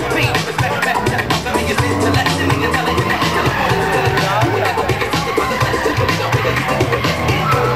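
Drift cars in a tandem run at a Latvian Drift Series event skid with continuous tire squeal and loud engine noise, close and intense, over crowd hubbub and an excited commentator speaking.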